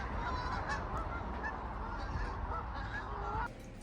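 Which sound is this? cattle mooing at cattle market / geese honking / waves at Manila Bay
geese honking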